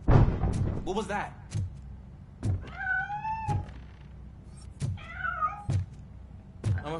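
Several loud, close cat meows in the video game RoboCop: Rogue City, rising and falling wails spaced among thuds and game noise.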